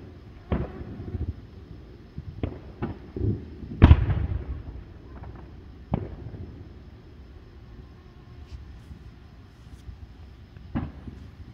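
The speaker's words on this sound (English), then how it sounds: "someone's doing some fireworks over there." Fireworks go off nearby on a Fourth of July night outdoors, a scattered series of sharp pops and booms at irregular intervals, one heavier bang standing out, over quiet night ambience with no talking.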